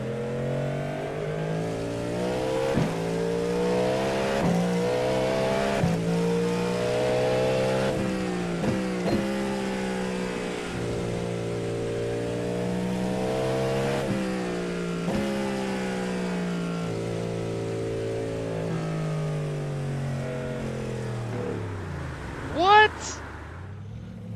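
Race car engine in the iRacing sim, droning steadily through a lap with rising and falling revs and gear changes, close and loud throughout, ending with a sharp high whine near the end.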